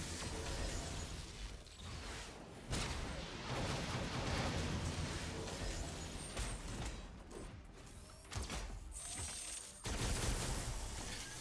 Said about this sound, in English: Ion Cannon is doing some work.